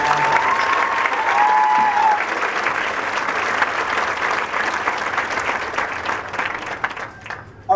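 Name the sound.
audience applause for marching band color guard leaders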